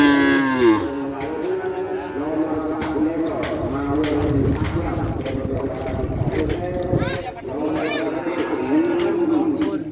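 Several cattle moo loudly and repeatedly, long drawn-out lows overlapping one another nearby, with people talking underneath.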